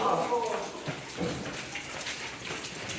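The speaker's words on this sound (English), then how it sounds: "Waterfall." Steady rushing and splashing of a waterfall inside Natural Bridge Caverns, a continuous broadband wash that fills the clip, with a voice speaking over it near the start.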